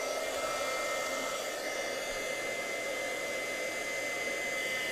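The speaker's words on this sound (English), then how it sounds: "then I'm gonna take my heat tool again" A craft heat tool blows hot air in a steady, even whoosh held at one level throughout, close and unbroken.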